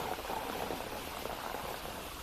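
Irrigation water runs through a pipe to a maize field, a steady rushing, bubbling flow that holds even and fairly close throughout with no pauses and no voices.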